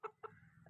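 A rooster gives two short, quiet clucks in quick succession, followed by a faint low murmur.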